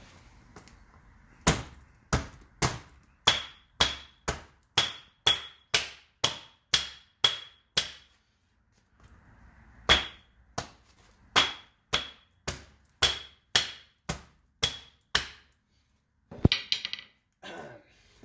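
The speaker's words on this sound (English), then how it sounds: "What I'm going to do now is pound the outer CV off." Repeated hammer blows pounding the outer CV joint off the axle of a high-mileage diesel minivan, loud sharp metallic strikes in two long runs of steady rhythm, about one hit every half second, with a brief pause between runs.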